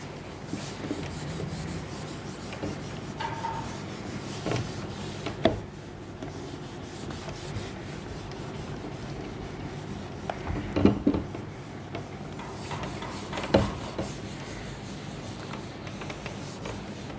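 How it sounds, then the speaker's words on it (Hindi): Writing being rubbed off a board, heard as a continuous soft scrubbing and rasping with a few light knocks, close by and without any talk. "इसको मैं रब कर देता हूँ दोस्तों थोड़ा"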